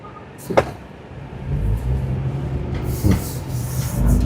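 Inside a Citroën C3 XTR as it pulls away in first gear, a steady engine and road rumble builds beneath a couple of sharp interior knocks or clicks, with no speech.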